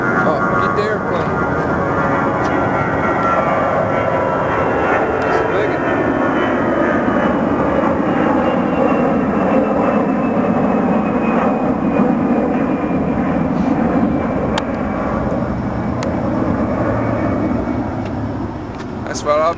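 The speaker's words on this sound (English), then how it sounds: "Oh, get the airplane." An airplane passes overhead outside the Mall of America, a loud, sustained engine roar that slowly shifts in pitch as it flies by, filling the whole stretch with no clear talk.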